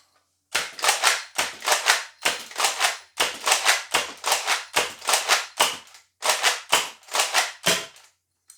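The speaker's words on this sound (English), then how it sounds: "And now you got 9 shots of short darts." A modded Nerf Rampage shotgun with a brass breech and inline clip fires nine short darts, each a sharp, loud pop or clack in an uneven rapid sequence, alone with no talking.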